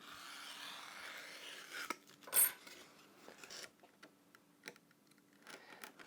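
A blade bevels the edge of foam board during a Flite Test F-14 Tomcat model airplane build. Quiet scraping and rasping strokes come close up in an irregular rhythm, with one louder scrape partway through and a few light ticks.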